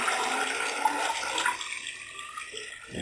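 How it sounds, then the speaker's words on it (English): Water and paper pulp draining out of a freeness tester funnel into a graduated cylinder, a hissing rush of liquid that thins and fades after the first second and a half, with no talk. "you saw how quickly the pulp drained through there, and most of the water ended up in here"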